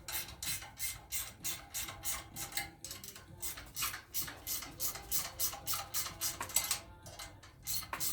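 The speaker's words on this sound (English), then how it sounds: "Just 10 mils or M6 bolts, so 10 millimeter wrench. We'll take these right off of here." A 10 mm wrench works M6 bolts loose from the front fender of a 2025 RPS Hawk 250 DLX motorcycle, making a fast, even ratcheting tick that repeats steadily throughout, close and fairly loud.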